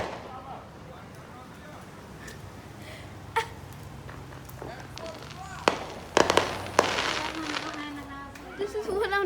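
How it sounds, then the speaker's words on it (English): Fireworks pop in the distance as a handful of sharp, scattered bangs that grow more frequent toward the end, heard under nearby outdoor voices. "Fireworks popping over there."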